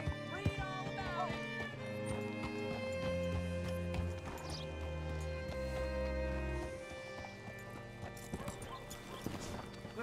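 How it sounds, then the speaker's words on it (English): Horse hooves clip-clop steadily in Red Dead Redemption 2 while a horse whinnies, over a sustained musical score with low drones and brief voices in the background. "Hitch your horse up here."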